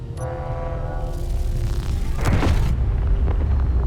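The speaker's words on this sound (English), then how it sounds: "railgun 2, let's go ahead and let him fire here." A railgun fires in the space game Space Engineers, heard as a deep rumbling boom that swells over a steady low drone of ship machinery, close and loud, with a whooshing burst in the middle.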